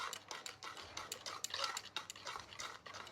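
Spoon scraping and clinking against a bowl while oil is mixed into a cookie batter of sugar, egg and vanilla, a quiet, steady run of uneven clicks and scrapes close by, with no talking.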